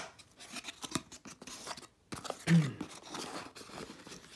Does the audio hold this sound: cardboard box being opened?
yes